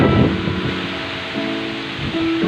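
Heavy rain and strong wind from Super Typhoon Goring beside a river, a dense, continuous rushing wash with gusty swells, close and steady.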